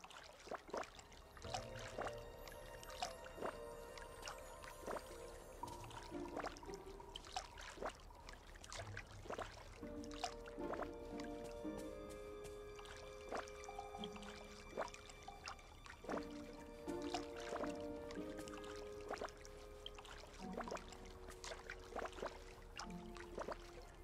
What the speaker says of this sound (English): Oh, I need to water these guys real quick.